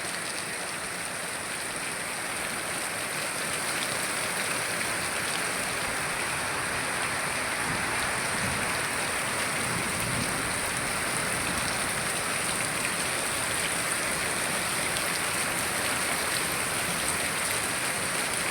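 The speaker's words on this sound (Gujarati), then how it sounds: "ફોનમાં બહુ ન દેખાય પણ રિયલમાં બહુ જ વરસાદ પડે છે." Heavy rain falling outside a rural house during the monsoon sowing season, a constant, dense patter and hiss of downpour on surfaces, steady and unbroken for nearly nineteen seconds with no voices.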